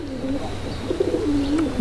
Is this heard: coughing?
no